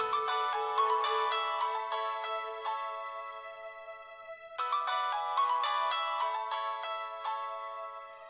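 A mobile phone ringtone plays a melodic electronic tune, repeating its phrase twice at moderate volume with a brief gap between the rings.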